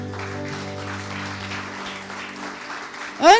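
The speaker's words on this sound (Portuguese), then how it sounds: "aplauda ao Senhor." A church congregation claps during a worship service, steady applause under a lingering organ or keyboard chord, with a brief burst of whistling or cheering near the end.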